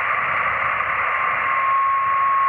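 Plain hiss from an untuned 10 GHz X-band amateur radio receiver, a steady band-limited static with a faint thin whistle running through it, constant and alone.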